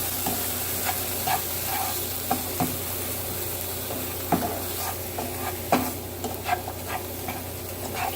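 Butter and sugar stirred in a hot pan give a steady soft sizzle, with scattered scraping and tapping clicks from the spoon throughout.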